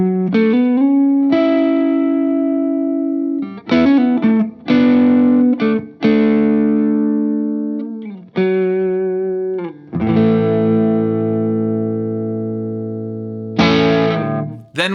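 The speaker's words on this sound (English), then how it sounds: "we've got a knob that lets us bring in some distortion, which is actually pretty tasty all by itself" Electric guitar through the distortion circuit of an Ibanez LF-7 Lo-Fi pedal: loud, gritty sustained notes and chords struck one after another, each ringing out and decaying.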